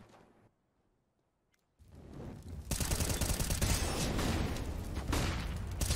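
Brief near-silence, then sustained rapid automatic gunfire in Counter-Strike: Global Offensive erupts and keeps going loudly, dense bursts of shots with mechanical clatter.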